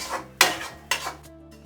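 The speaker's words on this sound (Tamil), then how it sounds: "முட்டையை நல்லா கலந்து விட்டுட்டு இந்த மாதிரி பொடிசாக அப்படியே கரண்டியை வச்சு குத்தி எடுத்துக்கோங்க" A metal spoon scrapes and knocks against a pan while breaking scrambled egg into small bits, producing two sharp clinks followed by softer scraping, close and alone.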